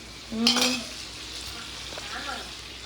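Onions and tomatoes sauté in a pan for a sardine fish curry, giving a close, steady sizzle with a short louder burst of stirring near the start and no voices.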